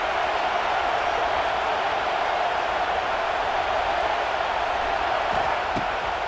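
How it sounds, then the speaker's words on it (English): A stadium crowd in the College Football 26 video game roars as one steady, loud wall of noise that holds without a break for the whole stretch. "Decibels rising as the crowd gets behind this defense on 3rd down."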